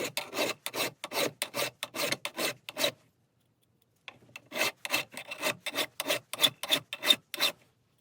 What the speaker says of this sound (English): Now let me go over it and sharpen it real quick and show you the difference.